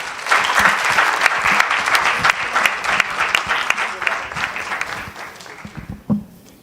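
Large audience at the NSMQ 2025 national championship launch applauding for a sponsor, a dense, loud, sustained wash of clapping that thins and fades near the end.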